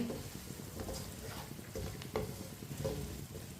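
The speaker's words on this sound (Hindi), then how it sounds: "थोड़ा सा गरम मसाला डाल लेंगे। अच्छी तरह मिक्स कर लेंगे।" Garam masala stirred into tinda sabzi (Indian round gourd curry) in a pan, with a close, continuous scraping stir over a soft sizzle and a few louder scrapes.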